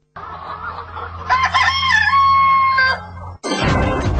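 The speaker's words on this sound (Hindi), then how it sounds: "गाजीपुर दिल्ली की सबसे बड़ी मुर्गा मंडी" A rooster crows loudly at the Ghazipur poultry market in Delhi, one long drawn-out call with clucking and fowl noise around it, then a burst of market clatter at the end.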